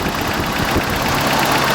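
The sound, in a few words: 1989 Toyota 4Runner 22RE engine starting and idling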